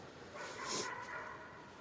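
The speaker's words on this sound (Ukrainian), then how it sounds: "Собаки десь гавкають." Dogs bark faintly somewhere far off during a walk in a forest, a few soft yips carrying through a quiet outdoor background.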